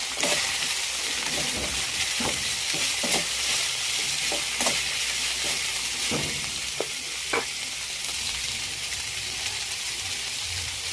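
Onion, tomato and spiny gourd (kartule) fry in hot oil in an Indian home kitchen, a steady loud sizzle broken by a dozen or so sharp scrapes and knocks as a spoon stirs the pan.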